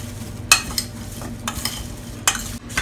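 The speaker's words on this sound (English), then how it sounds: "and 1 1/2 tablespoon brown sugar, and let's just mix this. Mix it really good." Marinade for pork chops with cinnamon and brown sugar being mixed in a bowl, giving a few sharp scraping and clinking stirs among softer swishes, close and moderately quiet with no voices.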